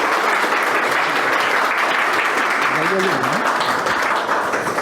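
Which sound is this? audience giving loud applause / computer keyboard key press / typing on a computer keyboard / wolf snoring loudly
audience giving loud applause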